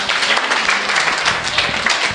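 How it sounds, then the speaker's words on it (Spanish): A crowd applauds at a school Mother's Day event, a dense, loud burst of clapping that fills the moment without a break. "Un aplauso para el"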